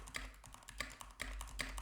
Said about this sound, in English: This is the Ampligame with me typing on the Keychron.